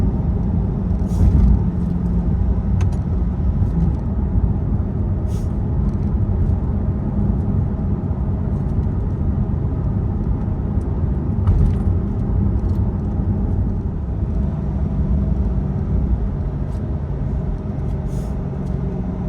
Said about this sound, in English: I absolutely love driving this car.